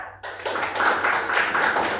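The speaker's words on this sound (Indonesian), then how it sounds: "Beri tepuk tangan untuk teman kita" Classroom applause for a student during an informatics micro-teaching lesson: a dense patter of clapping hands starts abruptly and carries on steadily to the end, moderately close and fairly loud.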